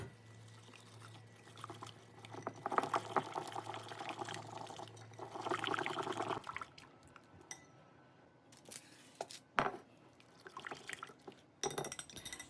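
Maple pie filling of syrup, eggs and cream poured into a par-baked pie crust: a soft liquid pour and splash over several seconds, followed by quieter kitchen clinks and utensil taps, with no talking.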